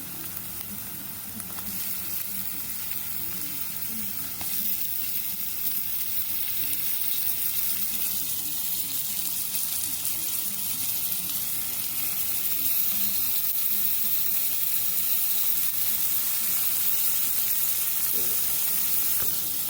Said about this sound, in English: Now that our seasonings are fully sauteed, we're going to add our saltfish pieces.